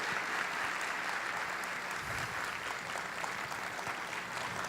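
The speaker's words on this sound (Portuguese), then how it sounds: "uma salva de palmas para o nosso craque." Audience applause at a university talk, a steady dense wash of clapping that runs without a break for the whole stretch, fairly even in level and with no voices rising above it.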